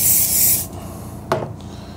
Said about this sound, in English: I'm going to take my spray adhesive and I'm going to spray it on this piece